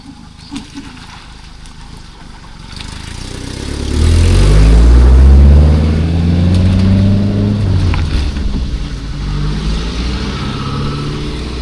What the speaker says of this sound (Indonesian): Ini banyak mobil yang lewat sini.